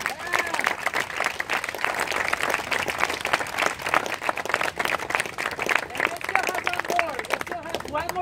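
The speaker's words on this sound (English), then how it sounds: "Let's give him a big hand of applause." A gathered crowd at a Portland community meeting gives a lively round of applause, dense continuous clapping with cheering voices and chatter mixed in throughout.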